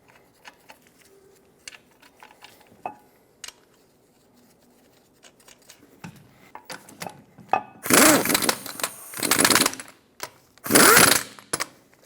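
Lug nuts on a Mazda 6 wheel are tightened in a cross pattern. Quiet handling clicks lead into three loud, rasping tool bursts close together near the end.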